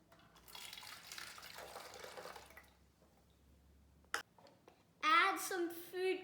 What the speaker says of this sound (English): Add half a cup of hydrogen peroxide into your empty